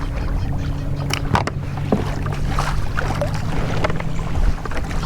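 Kayak moving on open water under a trolling motor, a low steady hum beneath water sloshing and wind buffeting the microphone, with a few brief knocks.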